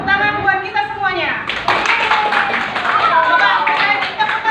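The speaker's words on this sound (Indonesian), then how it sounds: "Yuk, tepuk tangan buat kita semuanya." A classroom group of children and adults breaks into applause, a busy patter of hand claps that builds after a voice speaks and carries on under overlapping chatter.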